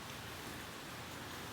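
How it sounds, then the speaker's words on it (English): Steady rain falls outdoors as a dense, even hiss with patter, constant and moderately loud throughout with no voices. "It's raining a bit, so I'm sorry for the noise."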